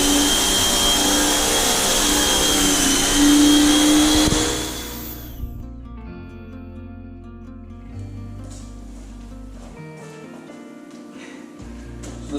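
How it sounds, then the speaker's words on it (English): A pressure washer blasts oil stains off a garage floor in a loud, steady, close rushing spray that cuts out after about four seconds, leaving quiet room tone and faint clatter. "This pressure washer, again,"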